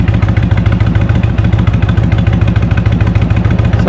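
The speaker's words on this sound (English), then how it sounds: "this bike has got a beautiful sound" An Indian Springfield Classic motorcycle fitted with Shark Road aftermarket exhausts rides along on a warm Texas day, its exhaust throbbing loud and close in a steady, evenly pulsing rhythm throughout.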